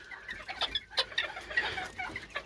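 A small Serama rooster in a coop gives a run of quick, close clucks and short throaty calls in an uneven rhythm, with no talk over them.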